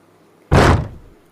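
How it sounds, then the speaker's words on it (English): A single wooden cupboard door thumps once, loud and close, with a short dull knock that fades quickly, heard alone. "Twice more they had to run for safety when somebody opened the cupboard door."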